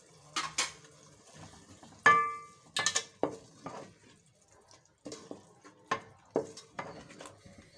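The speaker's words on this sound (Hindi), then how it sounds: "दही शामिल करके मैं इसको भून लूँगी।" Spoon scraping and clinking against a pan while keema with yogurt is stirred and fried, quiet irregular taps and scrapes with one sharper metallic clink, close by.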